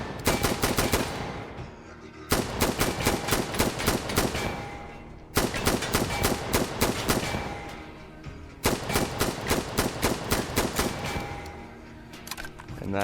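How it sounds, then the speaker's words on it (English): A CQB-R, a short-barrel M4 rifle in the VR shooter Tactical Assault VR, fires four loud sustained bursts of rapid automatic fire separated by short pauses. "next gun on our list is the CQB-R, which is a new M4 platform, which has a shorter barrel"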